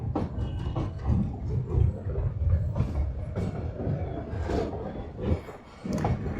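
A metre gauge passenger train rolls into the small, low-platform Dhari station on the Junagadh to Chalala line, with a steady rumble and irregular clanking and clacking from the cars, close and continuous.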